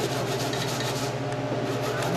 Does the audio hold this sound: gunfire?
no